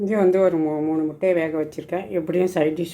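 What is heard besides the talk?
No distinct noise like a dog, phone or traffic.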